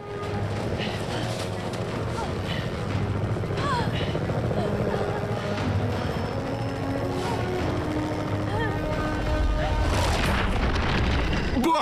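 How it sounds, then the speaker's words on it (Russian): A helicopter comes in to land in a disaster film about an icy apocalypse. Its loud, continuous rotor roar mixes with deep booms and rumbling, while people shout and talk over the din. "Сажаю вертушку!"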